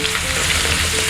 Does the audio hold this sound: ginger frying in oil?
yes